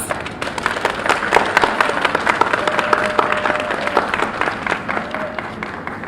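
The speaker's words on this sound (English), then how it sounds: "Nurses, give yourselves a round of applause." Nurses clapping together at an International Nurses Day proclamation ceremony, a room full of sharp individual claps blending into lively applause that holds steady and fairly close for several seconds.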